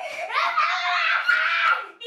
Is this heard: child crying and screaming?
yes